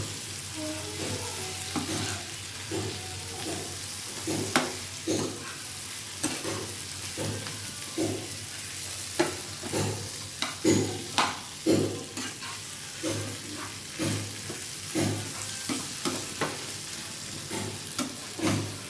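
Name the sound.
frying shrimp being stirred in a pan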